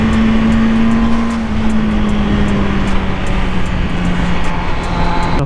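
A 2020 MV Agusta Brutale 1000RR motorcycle accelerating hard, a loud, close engine roar with a strong steady drone that slides slightly in pitch as it pulls, with wind rush over it.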